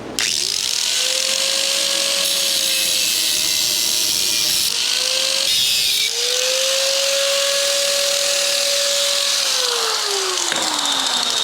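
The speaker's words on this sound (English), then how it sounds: "time to start grinding" Power grinder working metal during a mobile sandblast trailer build, a loud continuous whine whose pitch rises and falls as the load changes, with a brief dip midway, close up and without speech.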